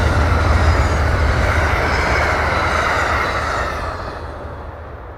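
An Amtrak Pennsylvanian passenger train rumbles past a trackside signal, loud and steady with rail noise, then fades slightly as it moves away.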